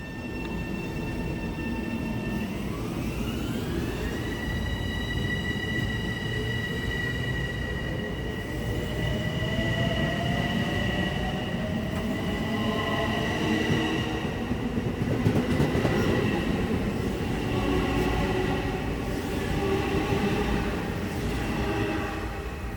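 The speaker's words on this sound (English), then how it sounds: "You get a shot of you as the train goes away." Train pulling away in the snow, its steady rail rumble rising as it gathers speed, with a sustained wheel squeal and whine sliding upward in pitch, heard from nearby with no talking.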